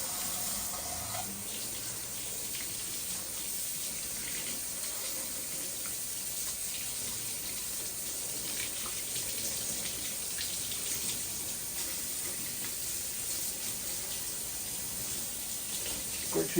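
Water runs steadily over a Samsung Galaxy A17 5G phone, flooding its speaker grilles, SIM ejector port and audio jack, a continuous close splashing hiss with no pauses.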